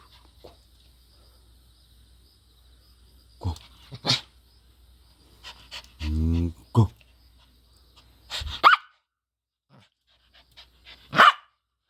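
A dachshund pants and lets out a few short barks, nearby and fairly quiet, scattered across a calm background with a faint insect chirp.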